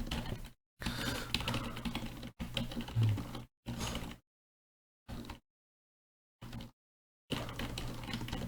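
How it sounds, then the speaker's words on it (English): Bursts of fast keyboard typing on a computer running DOS, dense clicking clatter close to the mic in several stretches separated by abrupt silences. "I'm just gonna start typing some stuff"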